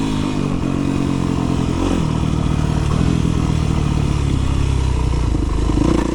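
A full-size combustion dirt bike engine revving loud and close, a continuous throaty roar that rises and falls in pitch with rattling mechanical clatter through it.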